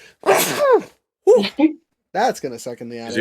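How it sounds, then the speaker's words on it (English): A single loud, close sneeze bursts out near the start, followed by someone talking and a brief exhale. "Excuse me while I sneeze."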